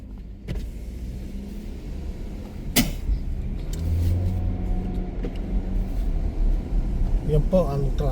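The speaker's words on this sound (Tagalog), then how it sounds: "Yan po ang traffic dito." Cars and other motor vehicles rumble past on a congested street where the road has been closed off for parking, a steady low engine drone with passing vehicles throughout, a sharp bang near the start and faint voices in the background.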